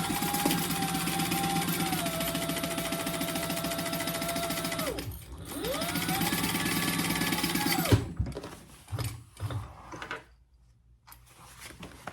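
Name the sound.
sewing machine stitching a bag pocket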